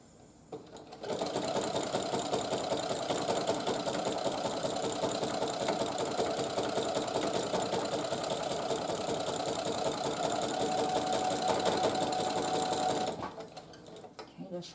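A sewing machine stitches a quilt-as-you-go table runner in a steady, rapid mechanical chatter, close and loud, running for about twelve seconds before stopping.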